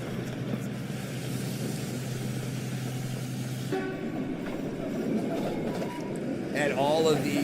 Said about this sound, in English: all of these diesel locomotives, they're just blowing smoke too